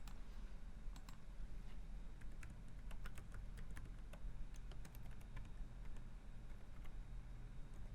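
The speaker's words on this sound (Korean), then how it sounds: "상세 버튼을 클릭하여 주소를 입력합니다" Someone types an address on a computer keyboard in a quiet room, with soft, irregular keystroke clicks in short bursts.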